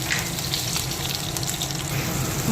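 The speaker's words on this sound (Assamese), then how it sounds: "এয়া মাছখিনি মোৰ ধুনীয়াকৈ ফ্ৰাই কৰি হৈ গ'ল" Fish frying in a wok for a fish curry with raw mango, giving a steady, continuous sizzle with watery crackle throughout, fairly close and with no talking.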